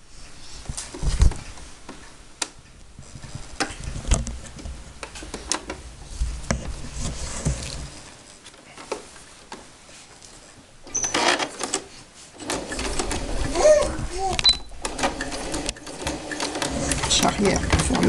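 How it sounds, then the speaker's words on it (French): A sewing machine straight-stitching fleece (molleton) for a homemade fabric face mask, with rapid mechanical patter in bursts that stop and restart, close by, while someone talks in French. "Donc nous allons coudre en point droit"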